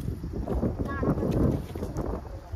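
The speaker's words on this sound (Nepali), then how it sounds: "तर हावा यस्तो धेरै चलिरहेछ" Strong wind blows outdoors at a picnic, buffeting the microphone in a continuous low, gusty roar while people talk over it.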